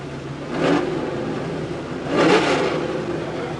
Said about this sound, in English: Engines being warmed up.